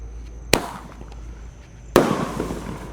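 A 1.2-inch roman candle firework fires two sharp, loud shots about a second and a half apart, each with a crackling burst tail, against a steady background hum.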